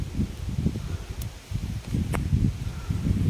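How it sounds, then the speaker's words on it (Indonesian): Strong wind buffets a garden in stormy weather, with gusty rumbling bursts and rustling that rise and fall close to the microphone, broken by a few sharp clicks. "Denger kan suara angin, ampun deh."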